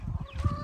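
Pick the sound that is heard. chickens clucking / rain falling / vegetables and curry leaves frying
chickens clucking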